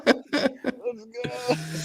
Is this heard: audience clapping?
no